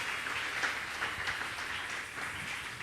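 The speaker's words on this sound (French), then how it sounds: "Acclamons d'abord pour le Seigneur." A congregation claps and applauds during a prayer marathon service, a steady, diffuse wash of hands heard from a distance, with no speech over it.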